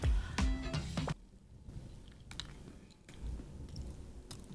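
Someone chews a layered dessert with a hard, crunchy walnut base, giving a loud close crunch at first and then softer, wet chewing sounds in bursts with pauses between them.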